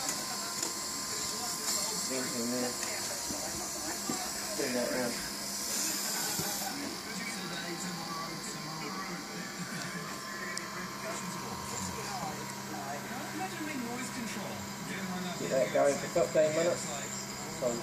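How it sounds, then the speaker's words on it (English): A vacuum pump and vibrating table run on an asphalt sample in a lab, giving a steady mechanical hum and hiss with faint rattling throughout, while voices are heard. "The technician then applies vacuum and turns on the vibrating table."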